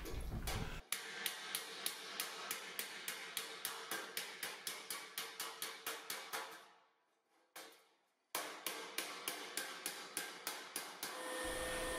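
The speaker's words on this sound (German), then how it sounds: "wird der Schweißpunkt kurz mit einem Hammer geklopft" Rapid, evenly spaced metallic hammer taps on a sheet-metal weld spot joining formed car body panels, each ringing briefly, keep a steady beat, stop for a moment, then resume at the same pace.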